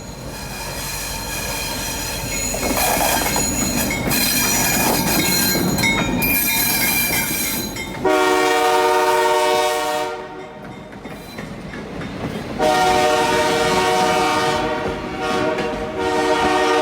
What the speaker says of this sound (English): I actually hear the engine, so we're gonna film that coming through